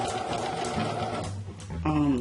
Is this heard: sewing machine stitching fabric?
yes